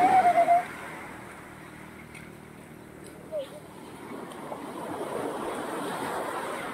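Sea waves at Tamaraw Beach Resort wash and hiss in a soft, continuous surf that builds gradually toward the end, with a brief voice at the very start.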